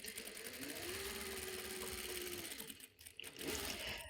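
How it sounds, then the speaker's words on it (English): Sewing machine stitching the middle of a pocket on a striped midi summer dress, a continuous close mechanical whirring that briefly dips before resuming. "I sew the middle."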